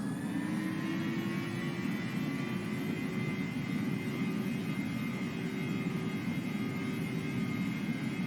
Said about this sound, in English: we'll go for takeoff. So throttles to half, and then to full.